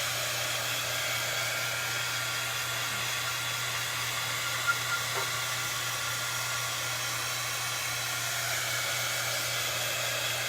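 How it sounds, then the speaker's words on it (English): A heat tool runs steadily while heating a metal Dollar Tree pizza pan, a continuous close-up blowing hiss with a low motor hum throughout, with no talk. "you're basically heating up the pan with your heat tool"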